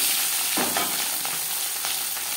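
Salt and turmeric coated fish sizzles steadily in hot mustard oil, a close, continuous frying hiss with a sharper burst as the pieces go in, and no talking.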